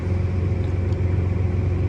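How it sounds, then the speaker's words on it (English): A tractor pulling a folded corn planter in transport mode on a zero-till farm gives a steady, loud, low engine rumble throughout, close by and alone. "See, the tractor will be moving."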